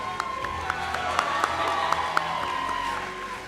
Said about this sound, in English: Let us now invite Vianka Gupta with a thunderous round of applause